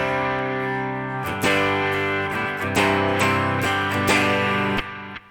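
Electric guitar runs through a Line 6 Pod Go on its stock overdrive snapshot, crunchy distorted chords struck several times and left ringing with a slight delay tail, played alone and close.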